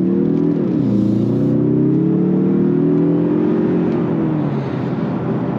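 A 2022 Mazda 3 2.5 Turbo AWD sedan accelerating at full throttle, a loud steady cabin engine drone whose pitch climbs, dips briefly at a shift and climbs again, with no talking.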